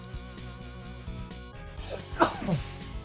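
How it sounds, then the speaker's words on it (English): A single sharp human sneeze bursts out over quiet video game music, close and fairly loud, with no talking around it. "I'm gonna sneeze."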